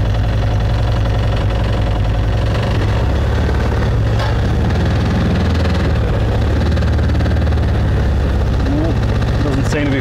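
UTV engine running steadily while driving forward up aluminium ramps, a loud, close, continuous rumbling drone with a rhythmic knocking texture, under occasional talk.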